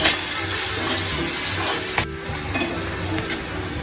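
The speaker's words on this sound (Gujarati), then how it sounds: "લીમડાના પાન એડ કરીશું. લીલા મરચાં એડ કરીશું. મિક્સ કરી લેશું." Curry leaves and green chillies fry in hot oil with a loud, close, continuous sizzle, broken by stirring scrapes from a spoon and a sudden drop in intensity partway through.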